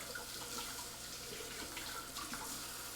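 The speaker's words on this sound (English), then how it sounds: "Gonna rinse off my knife" A kitchen knife rinsed under a running tap, a steady close hiss of flowing water with small splashes as the blade passes through the stream, faint and unbroken for the whole stretch.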